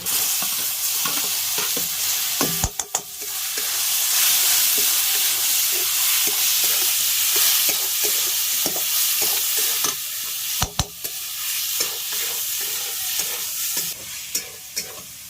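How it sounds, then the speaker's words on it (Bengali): Minced meat sizzles loudly in a hot pan with turmeric, a steady frying hiss close up, broken by a few sharp clinks and scrapes of stirring. "এবার এই মাংসের কিমাগুলো দিয়ে দিচ্ছি"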